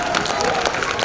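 An audience applauds at a prize-giving ceremony in a theatre venue, producing a dense, steady wash of clapping close by with crowd voices mixed in throughout the short burst.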